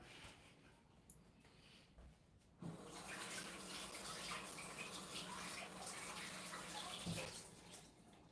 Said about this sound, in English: I'm going to go ahead and rinse it off and then rub my pork down